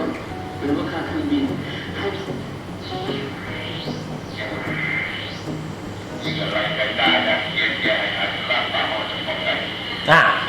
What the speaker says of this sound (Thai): เดี๋ยวเราลองเปลี่ยนสถานีดูนะครับว่าเครื่องรับของเราจะสามารถเปลี่ยนสถานีได้หรือเปล่า